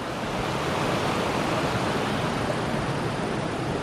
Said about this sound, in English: You can see down in there, the waterfall.